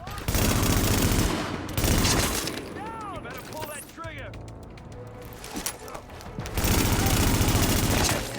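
Bursts of automatic gunfire from The Division rattle loud and close in repeated volleys, with pauses between them, while a voice talks over the action.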